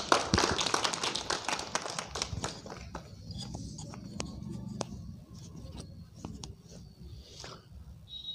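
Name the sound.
applause welcoming the school founder on Republic Day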